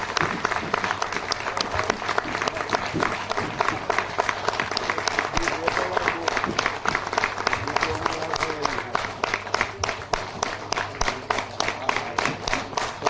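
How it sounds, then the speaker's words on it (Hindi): Seminar audience breaks into sustained, loud applause, a dense crowd of clapping hands that carries steadily for the whole stretch with some voices mixed in. "जोरदार तालियों के बीच में।"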